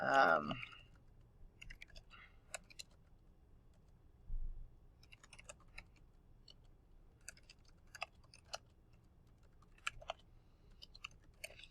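Sparse typing on a computer keyboard while entering a comment into a text box, faint scattered key clicks in small clusters against a quiet room, after a short burst of sound at the start.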